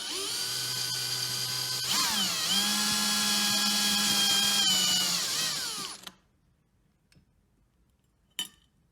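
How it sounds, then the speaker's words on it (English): A power drill bores a hole through the lid of a glue pot, a loud, close whine that rises in pitch as the bit bites in, then cuts off into quiet with a single brief clatter afterward. "And just at the center of those 3 marks, we'll drill our hole."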